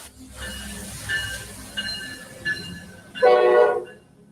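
Railway train noise rumbles at a moderate distance, with several short horn-like tones and then a louder, harsh squeal of wheels near the end.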